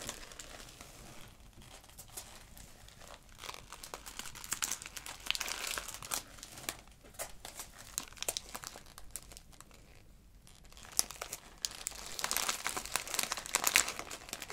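Wrapping paper being folded and creased around a gift, with continuous close crinkling and crumpling that swells and fades as the paper is handled, with no speech.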